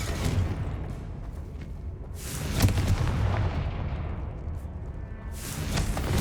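A Confringo fire spell explodes in Hogwarts Legacy, a mid-clip boom followed by rumbling and whooshing bursts, moderately loud over low game ambience.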